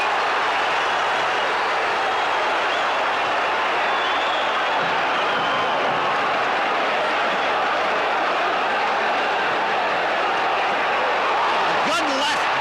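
A boxing crowd at a 1976 heavyweight fight between Foreman and Frazier gives off a steady, loud roar. A commentator talks over the noise the whole time.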